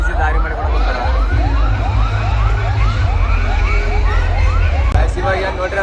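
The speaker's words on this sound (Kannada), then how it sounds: "ಆಂಬುಲೆನ್ಸ್ ಯಾವ ದಾರಿ" An ambulance siren wails loudly in quick, repeated rising sweeps over a low rumble of traffic during a large Ganesh procession in Yadgir.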